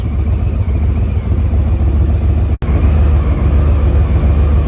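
A 2022 Harley-Davidson FXLRST motorcycle with Diablo slip-on exhausts runs with a loud, steady, deep engine rumble close by, broken by one very brief dropout partway through.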